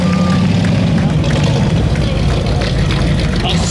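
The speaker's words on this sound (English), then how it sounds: "This is a mean machine, a racing car. Sounds good as well." A 1932 Ford Roadster racing car with body by South Kid runs at a concours at Amelia Island. Its engine gives a loud, deep, rumbling idle that holds steady throughout, with faint background chatter.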